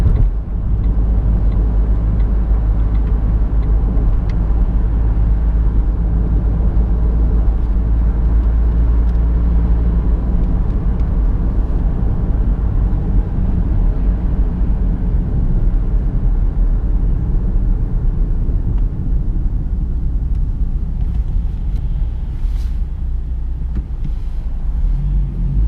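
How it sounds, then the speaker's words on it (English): A 2007 Vauxhall Astra 1.3 CDTi 16v diesel car being driven, with a steady low engine drone and road rumble heard from inside the cabin and no talk. "Plenty of power in it for a small diesel engine."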